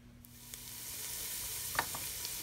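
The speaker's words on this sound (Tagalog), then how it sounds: "So gisa muna natin yung ating garlic." Garlic sautéing in a pan for sotanghon, a faint, steady sizzle that swells slightly over time, with a few soft stirring clicks and scrapes near the end.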